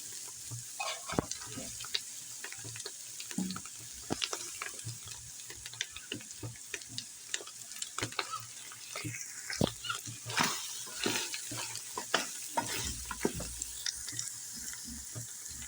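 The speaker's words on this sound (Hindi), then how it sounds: "अब हम इसमें टिंडे भून लेंगे।" Tinda (apple gourd) frying with minced meat and whole green chillies in a pan, a steady close sizzle broken by frequent scrapes and clicks of stirring throughout.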